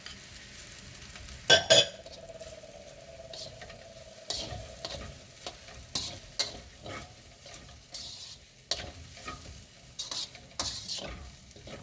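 Fried rice with meat and eggs being stir-fried, a steady sizzle punctuated by repeated metal-on-pan scrapes and clanks at an irregular pace, close by, one sharp clatter early on and no speech.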